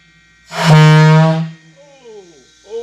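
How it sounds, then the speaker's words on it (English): A submarine fog horn fitted to a V12 rat rod gives one loud, low blast lasting about a second, close by, followed by a person starting to talk. "Now we got us a fog horn."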